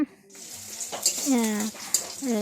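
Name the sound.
garlic paste frying in oil for dried fish curry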